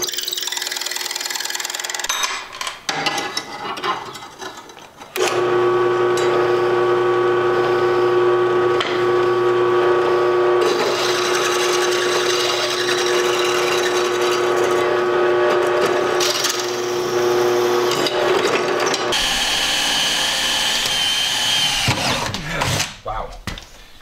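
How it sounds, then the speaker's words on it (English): Hand drilling of window holes in a school bus being converted into a skoolie, a steady mechanical whir holding for most of the stretch after a brief start, with short pauses and scraping at either end. "So we're gonna drill the first one by hand"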